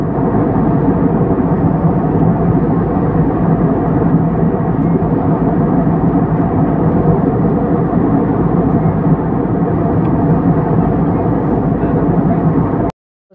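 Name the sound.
airplane cabin during flight from Goa to Kolkata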